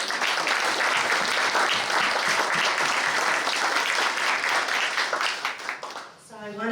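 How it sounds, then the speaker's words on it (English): Outdoor crowd at a garden club centennial dedication ceremony giving sustained, loud applause that fades near the end as a voice comes in. "So a round of applause for them."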